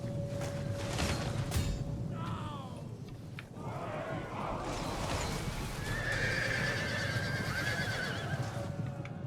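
Warhorses neigh repeatedly in a Crusader Kings 3 battle, several whinnies rising over a dense din of hooves and clashing combat noise.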